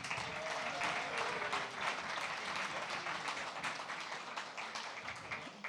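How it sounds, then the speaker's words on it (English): A pub-talk audience in Central Oregon gives Emmanuel another round of applause, a dense burst of many hands clapping close by that gradually thins toward the end. "How about another round of applause for Emmanuel?"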